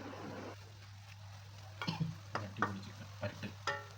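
Chicken fry is stirred in a pan, giving a few soft scrapes and light sizzling bursts in the second half over a low steady hum. The sound is faint and close.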